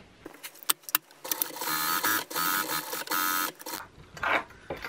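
A sewing machine runs a seam up the sides of a small-animal carrier bag made of fabric with mesh sides, stitching in several close, mechanical bursts with brief pauses between them.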